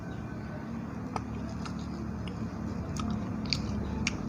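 Untu walang, a traditional Indonesian snack that is somewhat hard, being bitten and chewed close to the mouth, giving soft repeated crunchy bites over a steady low background hum with no talking.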